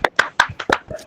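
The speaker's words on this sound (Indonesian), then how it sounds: "ini tepuk tangan buat Oscar Tobias yang mengidolakan Michael Phelps" A few quick, sharp hand claps ring out close by for a student during a school orientation session in a classroom, forming a brief irregular burst.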